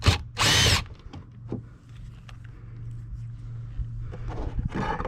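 Two short bursts of a power drill removing screws from a third brake light on a 3rd-generation Toyota 4Runner, then quieter clicks and rustles over a low hum as work continues.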